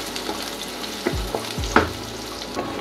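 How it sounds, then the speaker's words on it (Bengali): Chopped onion and garlic fry in a pan with a steady sizzle, punctuated by a few distinct knocks and scrapes of a spatula stirring against the metal. "দিয়ে দিচ্ছি পেঁয়াজ আর রসুন কুচি।"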